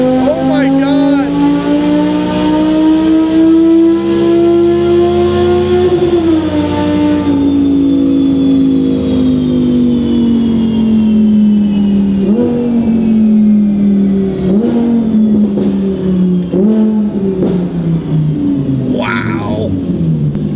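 An Audi R8 engine screams on an all-wheel dyno, loud and close, its pitch climbing steadily through a long pull, then falling with a few blips as it winds down.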